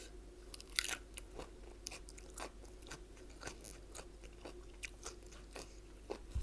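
Crisp pork rinds are crunched and chewed close to the mic in a quiet room, with a rapid, irregular run of sharp bites and crackles, some louder than others, and no talking.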